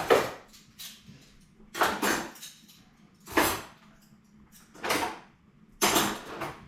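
Dishes clatter and clink in a sink in scattered bursts, plates and cutlery knocking together between quieter pauses, close by with no one speaking.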